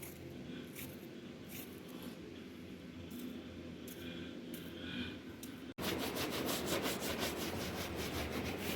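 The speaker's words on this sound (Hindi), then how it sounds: "मैंने कहा जल्दी से मैं उसको शूज़ जो है ना वो पॉलिश कर लूँ" Shoes are being polished with a brush. Rhythmic rubbing strokes are heard up close, then turn suddenly louder and faster, with dense repeated brushing in the second half.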